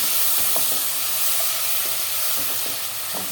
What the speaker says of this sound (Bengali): এখানে পেঁয়াজ তেল দিয়ে দিচ্ছি